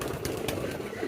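A young female pigeon gives a few soft, low coos close by, brief throaty calls over a steady background hum.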